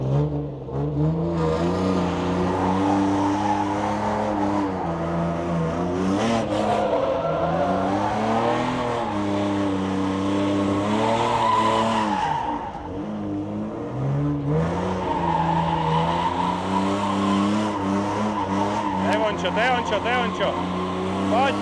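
A BMW E36 drifting, its engine holding high, wavering revs with steady tire squeal throughout, loud and close, while people talk over it.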